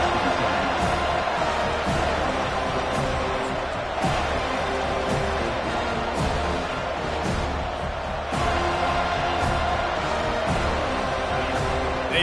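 A stadium crowd in an NCAA 25 college football video game, Virginia Tech at Florida State, roaring steadily throughout with a dense, continuous cheering wash at fairly loud level.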